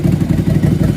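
A motorcycle engine runs steadily nearby, a loud low rhythmic chug with a slight clatter and no revving.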